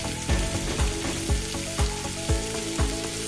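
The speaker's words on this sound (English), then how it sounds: "We're frying until they're beautifully golden brown and crispy on the outside, soft and flavorful inside." Potato egg rolls fry in hot oil with a close, steady sizzle. Soft knocks and bubbling bursts recur about every half second, as if the rolls are being stirred or turned.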